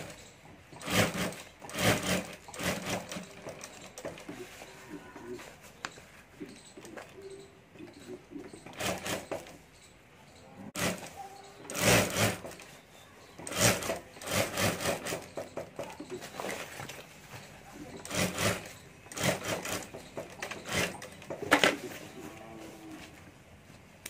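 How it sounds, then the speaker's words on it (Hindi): Fabric for a handbag is stitched on a sewing machine in repeated short rhythmic runs of rapid mechanical chatter, with brief pauses between bursts. "और अब यहाँ हमें सिलाई कर देनी है फैब्रिक के ऊपर"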